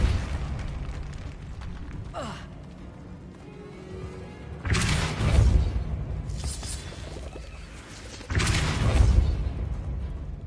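Forceful Depulso spell impacts from the Hogwarts Legacy video game, two heavy broadband bursts a few seconds apart with a lighter whoosh before them, each loud and booming over a steady game background.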